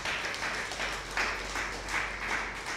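An audience at a Tamil pattimandram debate speech breaks into applause, a dense wash of many hands clapping in a hall, steady and moderately loud for a few seconds.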